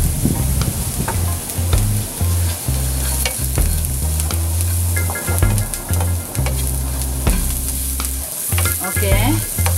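Garlic and onion caramelizing in a hot pan with a little salt, sizzling loudly and steadily while being stirred, with frequent scraping and clattering of the spoon, no talking.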